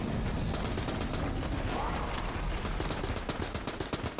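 Rapid submachine gun fire in Enter the Gungeon, dense evenly spaced shots rattling continuously and loud for the whole stretch, with clicking mechanical bursts mixed in.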